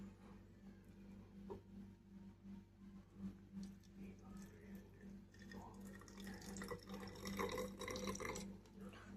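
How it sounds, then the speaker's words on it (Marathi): Cooled rosemary water, strained after boiling, pours from a plate into a bottle, a steady trickling splash that grows louder and busier toward the end over a low background hum. "आता पाणी गार झालेलं आहे, मी या बॉटलमध्ये ओतते"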